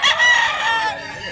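A gamecock rooster crows once in Mantalungon, Barili, Cebu, loud and close, its long harmonic call tapering off after about a second.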